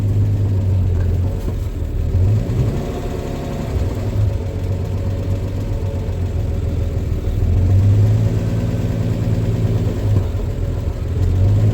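A 1984 Ford F-250 with a Comp Cams 268H cam rumbles through a pull test, a steady, close low engine drone with a few surges of throttle over nearly twelve seconds, no speech.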